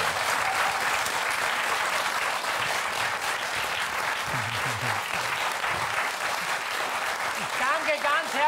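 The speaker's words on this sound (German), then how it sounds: "Ein Applaus bitte für den." A studio audience claps through a German TV cooking show, sustained applause carrying from start to finish while people talk over it.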